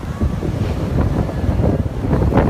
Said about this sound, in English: the wind is really whipping right now